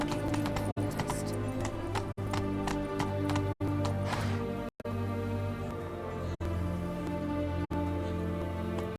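Roach, a horse in The Witcher 3, trots with steady clip-clopping hooves under a bed of sustained music, the hoofbeats fairly close and continuous with a few brief cuts.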